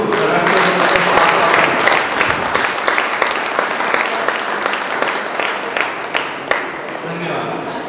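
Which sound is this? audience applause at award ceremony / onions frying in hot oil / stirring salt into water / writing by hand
audience applause at award ceremony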